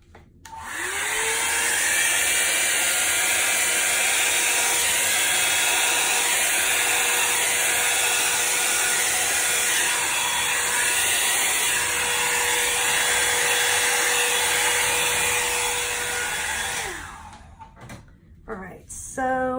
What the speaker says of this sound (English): Let's try the blow dryer first.